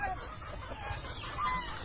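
Turkeys inside a farm pen give faint, scattered calls over low background rumble, a couple of brief clucking sounds standing out at a distance.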